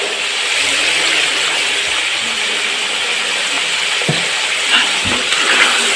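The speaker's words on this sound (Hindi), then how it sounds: "चिकन को अच्छी तरह फ्राई कर लें" Chicken pieces frying in hot ghee for spinach chicken curry, giving a steady, loud sizzling hiss that runs unbroken throughout, with a few faint clinks near the end.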